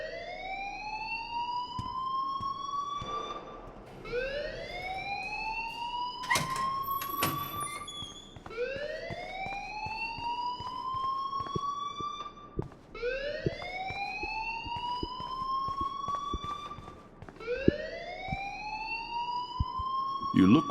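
Alarm ringing in the video game Life is Strange, a loud wailing tone that sweeps upward and repeats about every three seconds, steady and unbroken throughout.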